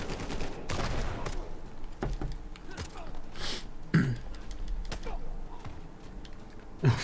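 Machine-gun fire from a video game crackles in scattered sharp bursts, moderately loud with gaps between shots and some low noise beneath.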